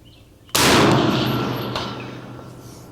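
A single loud, sharp shot from a 6mm ARC rifle with a gas system that was overpressured, followed by a long ringing decay and a quick mechanical clack about a second later as the action cycles.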